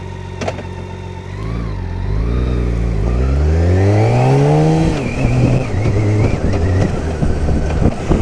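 A motorcycle engine shifts down through its gears without the clutch, loud and close: rising and falling revs step down in pitch with each quick blip of throttle, then settle into a lower drone.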